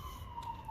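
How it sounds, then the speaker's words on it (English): A siren, likely from an ambulance, sounds in the distance as a steady wailing tone that holds through the whole short moment, faint and alone with no one speaking. "I'm sorry for that ambulance or whatever in the background."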